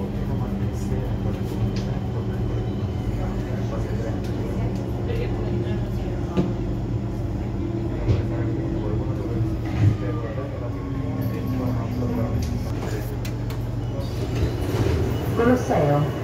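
Rome metro train riding toward Termini, a steady rumbling ride with a low drone and passing rail hiss, and people talking faintly throughout.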